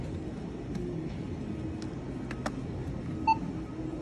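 A toy cash register scanner gives one short, clear electronic beep late in the clip, standing out against a quiet room with faint background noise and no talking.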